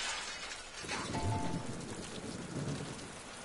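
Rain pours steadily over a rolling thunderclap in a stormy scene of the Deadpool video game, the downpour hissing continuously throughout.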